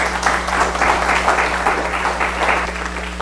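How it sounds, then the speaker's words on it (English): Audience applause after a tech conference talk on open-source distributed storage, a steady, slightly muffled wash of clapping over a constant electrical hum that carries through to the end. "give a round of applause."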